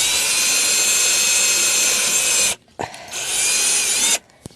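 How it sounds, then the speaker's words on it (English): A power drill bores a hole through the center of a plastic soda bottle cap, whining at a steady high pitch for a couple of seconds, cutting out briefly, then running again before stopping. "I'm going to drill a hole through the center"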